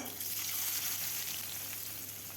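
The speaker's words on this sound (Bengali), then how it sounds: "পেঁয়াজটা কিছুক্ষণ ভেজে নেব যতক্ষণ না বাদামি কালার হয়" A steady, soft sizzle of onions frying in oil, continuous and even throughout, heard close with no voices.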